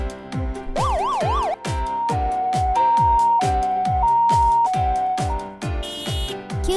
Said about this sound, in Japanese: 救急車。